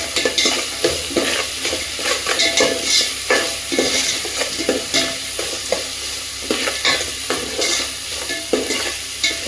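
Ginger garlic paste frying in a pan for chicken pulao, giving a loud, close sizzle broken by a rhythmic run of stirring scrapes against the pan, with no voices.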